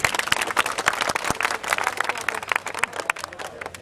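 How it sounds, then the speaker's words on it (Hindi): Dense, continuous clapping from a crowd at a taxi union rally in Mumbai, loud and close, with sharp individual claps standing out over the steady applause. "जोरदार तालियों का स्वागत करें"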